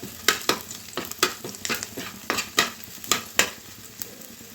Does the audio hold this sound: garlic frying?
yes